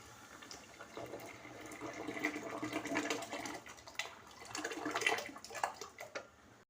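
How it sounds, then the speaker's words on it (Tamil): A black urad dal and raw rice batter is poured into a pot of boiling water for village-style porridge, a faint, continuous watery pouring and splashing that swells and fades over several seconds, no voices. "நாம் கரைச்சி வச்சுருக்க உளுந்து பச்சரிசி கலவையை இதில் ஊற்றி கிண்ட ஆரம்பிச்சிருவோம்"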